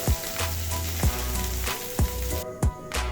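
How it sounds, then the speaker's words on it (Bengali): Ground shrimp fry with browned onions in a pan, a steady crackling sizzle broken by several sharp stirring scrapes at regular intervals, close and fairly loud with no talking. "এখন এই চিংড়ি মাছ দিয়ে পেঁয়াজগুলো দিয়ে ভালোভাবে ভেজে নেব।"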